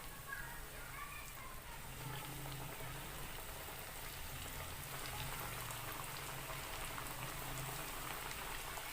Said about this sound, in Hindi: ये मेरे पास ऑयल है जिसे मैंने गरम कर लिया है। अब हम इसमें एक एक करके चिकन विंग्स के पीस डालेंगे फ्राई होने के लिए।